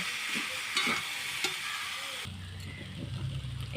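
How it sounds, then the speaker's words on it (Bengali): Soaked sago stirred and fried in a pan with oil, a steady close sizzle under scraping spoon strokes, shifting to a lower, denser frying hiss halfway through. "এইবারে ভিজিয়ে রাখা সাবুগুলো আমি এর সাথে কিন্তু ভালো করে ভেজে নেব।"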